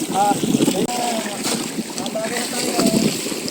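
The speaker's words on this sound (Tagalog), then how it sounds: "Ito ang alon ngayon." Sea waves slap against a small fishing boat off Tanza, Cavite, amid wind buffeting and water sloshing around the hull, while people talk and call out nearby.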